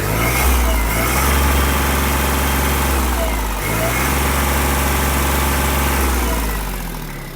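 A Japanese Kubota GB-20 mini tractor's diesel engine runs with a steady, loud, close throb. It is revved up, holds a deep rumbling drone with a brief dip midway, and then eases off at the end.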